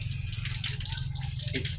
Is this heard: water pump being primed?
yes